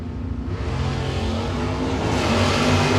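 Drag race cars at a Gainesville meet, a 305 car running against a 350 fuel-injected Firehawk, give a loud, steady engine roar that builds slightly in intensity across the clip with no talk.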